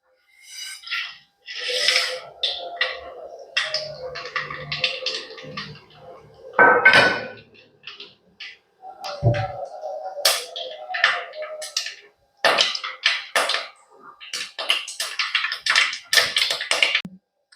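Irregular sharp pops and crackles burst in quick clusters, like mustard seeds spluttering in hot oil, loud and close with short quiet gaps, in preparation for an ivy gourd stir-fry.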